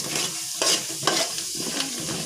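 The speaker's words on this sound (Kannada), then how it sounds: "ಸಾಸಿವೆ ಇವಾಗ ಸಿಡಿತಾ ಇದೆ." Mustard seeds, chana dal and moong dal frying in hot oil, a close, steady sizzle and crackle with brief louder pops and stirring scrapes, no voices.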